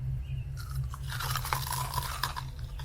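Biting and chewing crispy fried enoki mushroom, close-up crunching and munching bursts over a steady low background hum, with no talk.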